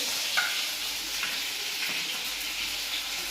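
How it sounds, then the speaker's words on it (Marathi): Green chilies frying in hot oil give a steady, bright sizzle throughout, with a few faint stirring clicks near the start. "थोडीशी हिरवी मिरची तळून घेते"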